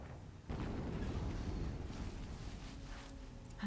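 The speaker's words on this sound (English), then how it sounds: "Another explosion." A heavy explosion in Horizon Zero Dawn booms in after a brief quiet moment, leaving a rolling, rumbling low-end roar that slowly fades out over the next few seconds.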